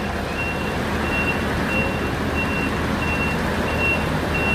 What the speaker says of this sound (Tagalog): may nag-a-atras na truck